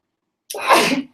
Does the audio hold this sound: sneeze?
yes